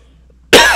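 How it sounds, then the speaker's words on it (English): A single harsh, hacking cough from someone with a lingering illness bursts out loud and close after half a second of near silence, then rasps off. "I've had a hacking cough for 2 months straight now."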